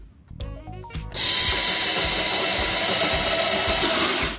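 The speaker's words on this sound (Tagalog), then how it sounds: "Tingnan natin kung mabilis ang pagkakabaon ng drill natin" An INGCO 8V cordless drill set to torque 10 drives in: a brief ratcheting click at the start, then a loud, steady high-pitched motor whine that runs unbroken for about three seconds before it stops.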